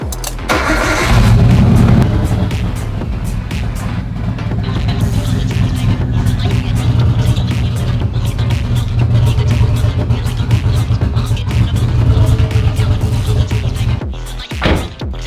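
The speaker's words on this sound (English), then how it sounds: "It started up like nothing. That's the easiest it's ever started." A Nissan Skyline R34 engine cranks briefly and catches, then runs loudly and steadily at close range with a rough, rumbling idle for the rest of the span.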